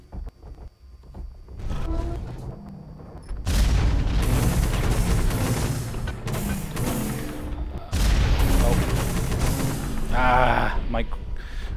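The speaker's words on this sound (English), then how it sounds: "rockets keep hitting that building or that structure" Rockets slamming into a building during a Hawken beta siege-mode match, heavy booming blasts and rumbling impacts in two loud bursts, with mechanical game sounds and a brief whine near the end.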